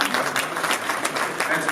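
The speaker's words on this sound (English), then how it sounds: "we could probably use a clap of hands for Debbie for putting this thing together." Audience clapping at a children's advocacy event, a short dense burst of applause filling the room with steady hand claps.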